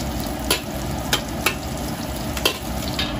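Mangosteen peel and pig trotters being stir-fried in a wok, giving a steady loud sizzle with sharp spatula scrapes against the wok roughly every half second.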